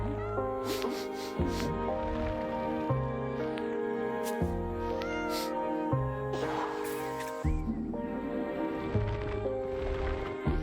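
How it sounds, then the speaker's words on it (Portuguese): Kittens in the video game I Am Dead give soft meows under steady background game music, with no talking. "Ah, e gatinhos?"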